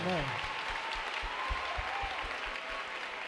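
A crowd in a gymnasium claps and cheers as a dense wash of applause with a steady rhythmic beat running under it, while a voice speaks over the noise.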